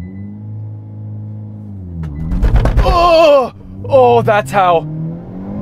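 A Hyundai Kona N under full launch control surges forward with a loud engine roar and juddering wheel hop, the low rumble swelling abruptly mid-clip before easing, with an excited voice talking briefly over it.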